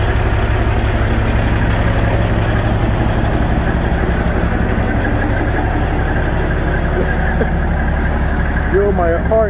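A truck's engine idles steadily while warming up, a loud, continuous low rumble throughout, with a voice speaking over it near the end.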